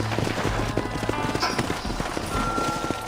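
Horse hooves clip-clop steadily and close as riders slow and dismount in Red Dead Redemption, with a faint whinny and background game ambience.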